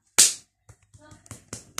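Hands clapping in a playful hand-clapping game, one sharp loud clap followed by a few softer claps and pats in an uneven rhythm, close by.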